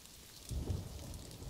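Rain and thunder in the zoo-building video game Planet Zoo: a steady hiss of rainfall with a deep, brief thunder rumble swelling midway, heard alone at a soft level.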